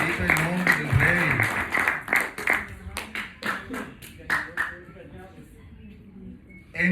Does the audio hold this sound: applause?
yes